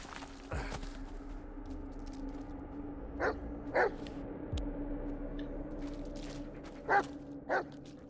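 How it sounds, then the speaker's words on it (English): Several short, faint dog barks from a video game set in the Blair Witch woods, coming in pairs with pauses between them over a low steady hum, the dog sounding some distance away. "let's find out where the dog's taking us"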